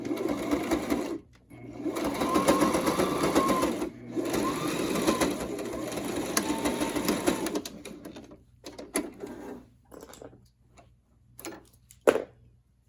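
A sewing machine stitches a cloth medical mask, running in long fast rhythmic bursts that break off into slower, intermittent stitching and clicks near the end.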